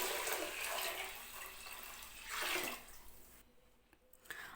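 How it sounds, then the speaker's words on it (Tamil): Water pours in a steady stream into a pressure cooker, splashing loudly before thinning out and stopping, leaving faint drips near the end. "அப்போ எட்டு ஆழாக்கு தண்ணி ஊற்றணும்"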